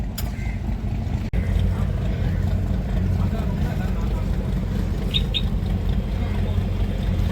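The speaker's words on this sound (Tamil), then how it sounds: "போட்டில் நம்ம செயில் பண்ண ஆரம்பிச்சிட்டோம்." An Alleppey houseboat moves across the water with a steady, low engine rumble that continues throughout, broken once by a sharp click and joined briefly by faint high chirps.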